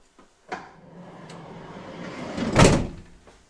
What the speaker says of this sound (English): And I want to close the door